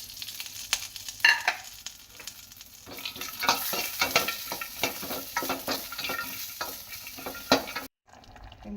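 Dry fruits fry in ghee in a pan, a close sizzling hiss with repeated scraping stir strokes that grow busier midway, then cut off abruptly near the end.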